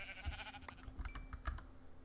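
A sheep bleats in Minecraft with the Better Than Wolves mod, a short wavering bleat at the start, followed by soft clicking taps and small thuds.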